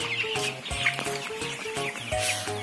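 Chickens on a poultry farm cluck over and over, close and fairly loud, with short overlapping calls and no talking.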